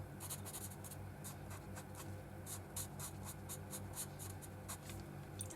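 Sharpie marker pen strokes on paper, a series of short, quiet scratchy squeaks in uneven rhythm, close up over faint background hum.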